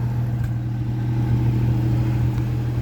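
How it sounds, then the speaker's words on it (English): A 1988 XC engine with a new exhaust system runs with a misfire, giving a steady, close, loud low drone with a rough, uneven pulse throughout and no speech. "Has misfire because I haven't done a tune-up yet"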